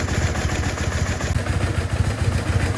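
A BMW R1100S motorcycle engine idles close by with its throttle bodies out of sync, giving a steady low, lumpy, uneven chug that runs throughout with no talk.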